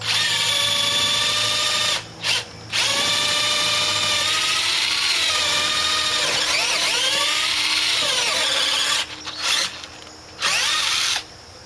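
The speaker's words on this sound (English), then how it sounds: "the drilling through 2 pressure treated, and the pressure treated wood is wet" A power drill whines steadily as it bores through wet pressure-treated lumber, loud and close, the pitch bending under load with a few short stops and restarts.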